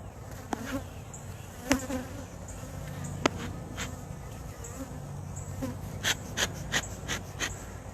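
Honey bees buzz around a beekeeper at the hive, a soft steady hum with individual insects zipping close past at several moments.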